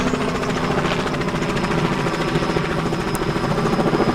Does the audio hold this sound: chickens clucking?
no